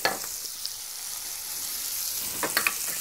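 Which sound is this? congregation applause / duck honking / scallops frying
scallops frying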